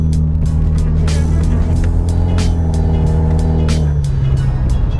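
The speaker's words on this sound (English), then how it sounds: "You just get straight turbo sounds coming out from the interior of the car." From inside an automatic Hyundai Genesis Coupe while cruising, a steady engine drone and turbo hum fill the cabin, with layered low tones shifting slightly near the end.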